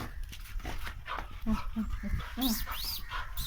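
A dog whimpers and yips in short, high, rising cries and pants nearby, under and between people talking.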